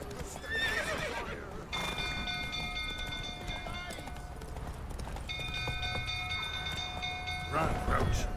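Roach the horse in The Witcher 3 gallops with quick, steady hoofbeats, and a neigh rises at the start and again at the end, all over sustained tonal game music.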